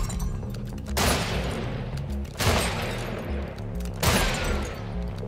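Three loud, sharp pistol shots ring out at roughly even intervals in the video game Weird West, each with a brief ringing decay as bottles are targeted.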